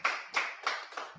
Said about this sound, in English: Clap it up for Commander General YAHANNA.